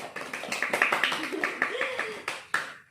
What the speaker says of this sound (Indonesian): Yeay, tepuk tangan untuk kita semua.